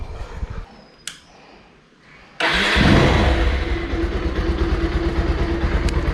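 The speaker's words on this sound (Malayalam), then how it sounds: "അപ്പോൾ ഞാൻ ജസ്റ്റ് വണ്ടി സ്റ്റാർട്ട് ചെയ്ത് അതിൻ്റെ എക്സോസ്റ്റ് നോട്ടൊന്ന് കേൾപ്പിച്ച് തരാം" A Bajaj Pulsar 220 motorcycle starts: after a quiet pause and a brief click, the engine catches abruptly and settles into a loud, steady, close-up rumble.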